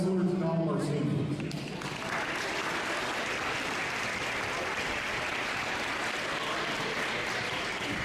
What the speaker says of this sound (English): Can I have a round of applause for all of our wrestlers and all of our seniors?